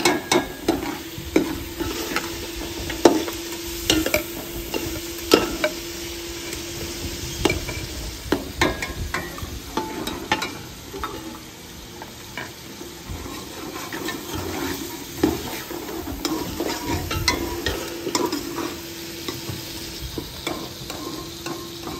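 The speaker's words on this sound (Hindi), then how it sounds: "मसाले जो हमारे अच्छे तरीके से भुनी चुके हैं, इसमें हम बकरे का गोश्त ऐड करेंगे।" Goat meat sizzles in a pot with roasted spices while being stirred, steady frying crackle under repeated scraping and clanking of the spoon, close and fairly loud throughout.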